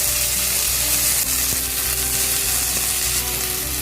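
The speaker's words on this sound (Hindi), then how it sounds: "अब इस टाइम पे मैं इसमें 1 टेबलस्पून के करीब जिंजर गार्लिक पेस्ट डाल दूंगी। अब इसको मैं थोड़ी देर पका लूंगी।" Ginger garlic paste frying in a pan for chicken yakhni pulao, a loud continuous close-up sizzle heard alone, with a few faint clicks.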